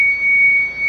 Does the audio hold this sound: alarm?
yes